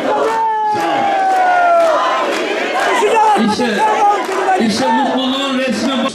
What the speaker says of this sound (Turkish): Coşkulu kalabalık sloganlarla ilçeyi inletti.